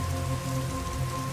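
Steady rain falling outdoors at a campsite, a soft, even patter of drops on surfaces with a faint hum underneath, continuous and moderately quiet.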